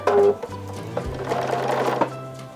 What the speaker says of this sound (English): we're going to take these halves, sew them down